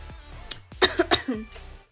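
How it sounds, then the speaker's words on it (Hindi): A few sharp coughs burst out close by, clustered together within a second, followed by a softer throaty rasp. "मुझे फिर से खांसी लगने वाली है"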